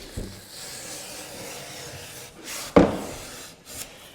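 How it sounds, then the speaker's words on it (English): Steel wool scraping paint chunks off wood, soft intermittent rubbing strokes with a sharper scrape partway through, close and fairly quiet. "if you scrub when there's a lot of paint embedded in your steel wool, you're just going to rub it right into the wood"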